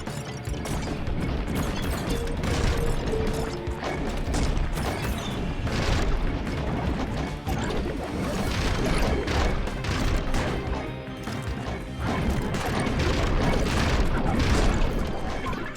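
Shotgun fire in the game Voidigo, repeated heavy booming blasts and crashing impacts in irregular bursts over busy game action, with no talking.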